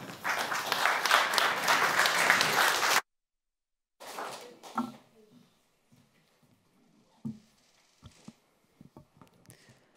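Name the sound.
warm applause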